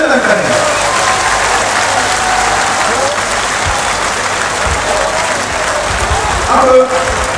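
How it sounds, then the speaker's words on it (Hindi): Loud, enthusiastic audience applause welcoming Aliya at a party gathering, a dense continuous wash of clapping from a large crowd throughout. "आलिया बहन जी का जोरदार तालियों के साथ स्वागत और अभिनंदन करें।"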